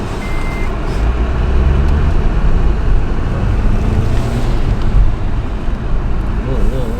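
An Acura TSX wagon, rebuilt after a wreck, out on its first test drive, heard from inside as a constant loud engine and road drone with a brief high chime early on.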